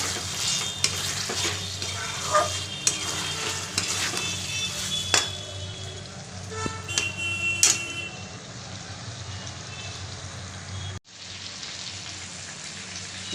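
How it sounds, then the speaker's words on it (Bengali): Chicken stewing in its own released water in a pan, a continuous bubbling hiss with scattered spoon taps and scrapes, cutting off briefly near the end. "দেখো কতটা জল বেরিয়েছে চিকেনটা দেওয়ার পর আমি এখানে কোনো জল দেব না আমি এটা হতে দেবো চিকেনটাকে এইভাবেই সেদ্ধ করবো"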